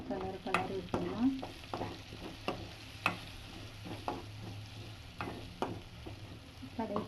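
Curry leaves sizzling in hot oil for radish chutney, a quiet steady crackle broken by repeated sharp clicks and taps of a spoon stirring against the pan.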